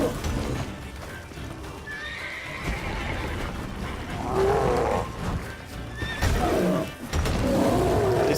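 Roach, Geralt's horse in The Witcher 3, neighing loudly in a few whinnies with clip-clopping hooves and game combat sounds around them.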